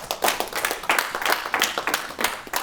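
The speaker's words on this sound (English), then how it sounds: "Clap it up." An audience claps in quick, uneven bursts for almost three seconds at moderate volume, with no voices over the clapping.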